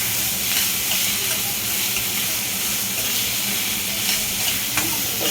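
Cumin seeds and coriander sizzle in hot oil in a pan while dal khichdi is being made, giving a steady, close, broadband frying hiss that holds for several seconds with a few small crackles and no talking.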